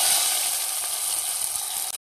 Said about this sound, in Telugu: జీలకర్ర, ఆవాలు, ఎల్లిపాయలు వేగినాయి కదండి